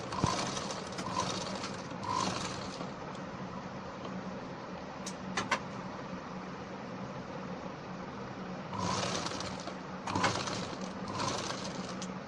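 Sewing machine stitching at the root of a concealed side zip on ladies' pants, with bursts of rapid mechanical running in short runs and a steady lower hum between them, close and moderately loud, no voices.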